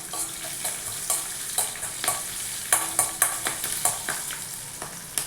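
Mustard seeds, cumin and green chilies sizzle in hot oil, a steady close fry broken by sharp, irregular pops and crackles as the seeds burst, with no talking.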